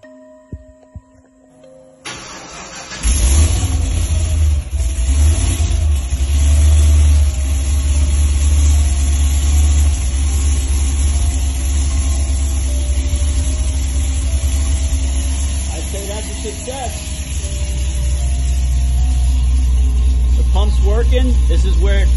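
A Cadillac car engine rigged to run on water cranks and catches after a short quiet start, then settles into a loud, steady low idle that runs on, with faint talk over the running motor.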